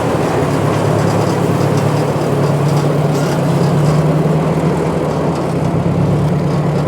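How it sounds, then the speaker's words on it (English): A Ford Workmaster tractor engine runs steadily at idle in the woods after warming up in a shed, a loud, constant low rumble with no break and no voices. "Nice day for a Ford tractor ride up through the woods."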